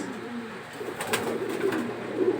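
Soft cooing from a racing pigeon close by, a few low murmuring calls over faint background noise.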